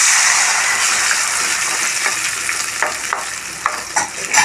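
Eggplant curry frying and being stirred in a pan, a steady loud sizzle with scraping stir strokes toward the end, no talk.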